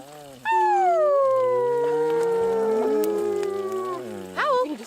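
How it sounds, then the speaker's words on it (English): A dog that looks like a Malamute howls at a winter hot-tent backcountry camp, one long sustained wavering howl close by that rises and falls for several seconds before a brief higher yip at the end. "Howl."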